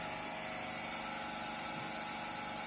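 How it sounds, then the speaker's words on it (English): A 3-phase induction motor runs steadily under increased load during a load test, giving a continuous dense mechanical hum and whine with no pauses, close and constant throughout. "Again we are going to increase the load on 3-phase induction motor."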